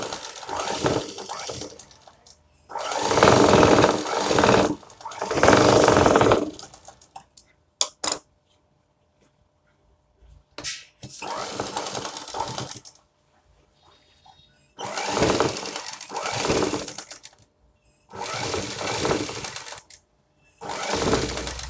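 A sewing machine runs in bursts while stitching the side seams of a blouse. Each run lasts a few seconds, loud and close, with quiet pauses between them.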